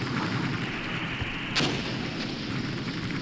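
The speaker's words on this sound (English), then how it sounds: "That's much more effective artillery than what we have." Artillery fire in the Armored Brigade war game, a single sharp boom cutting through a rumbling, noisy battlefield background, distant and moderately loud with no talking.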